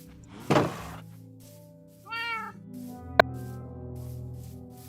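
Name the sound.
cat meowing in a video game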